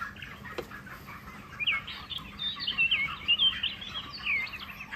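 A hen on a poultry farm clucks softly as she is set on a weighing scale, with repeated short, close calls over a steady low background hum.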